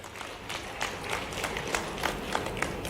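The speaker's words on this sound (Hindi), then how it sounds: "जोरदार ताली बजा करके मेरी बात का समर्थन व्यक्त करें" Crowd clapping at a political rally in Sagar, Madhya Pradesh, a fairly faint, steady patter of many hands with light rhythmic peaks, heard from a distance without talk.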